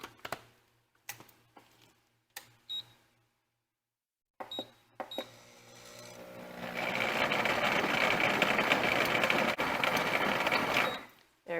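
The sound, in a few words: blender blending cherries with a cup of water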